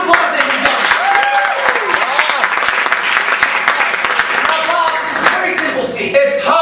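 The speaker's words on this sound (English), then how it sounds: "Round of applause, ladies and gentlemen." Audience applause at a live Shakespeare stage performance, a dense sustained wash of clapping throughout with voices and laughter mixed in over it.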